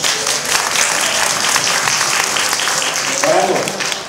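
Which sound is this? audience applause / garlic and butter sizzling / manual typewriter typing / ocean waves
audience applause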